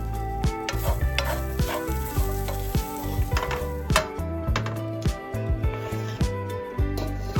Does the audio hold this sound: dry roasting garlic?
yes